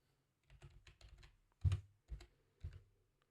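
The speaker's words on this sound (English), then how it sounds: "type your text" Keys on a computer keyboard tapped out in a few short bursts of typing, close and fairly quiet, with brief pauses between clusters of clicks and no talking.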